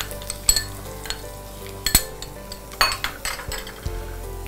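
Crushed garlic hits hot oil with spices in a pan, giving a steady sizzle broken by several sharp clinks and scrapes of a spoon against the pan.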